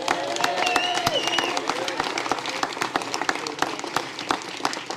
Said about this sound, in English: So I want to give her a round of applause.